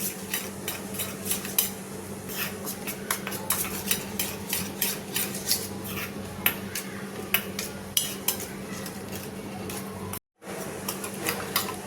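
Spoon stirring a chaat masala and red chili powder mixture in a bowl, rapid repeated scraping clicks and taps close up over a faint steady background hum, briefly cut by a short gap near the end.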